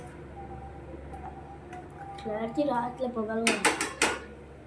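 Rice and meat are stirred together in a dum biryani pot; a few quick metallic clanks and scrapes of the spoon against the pot come near the end, following a stretch of talking.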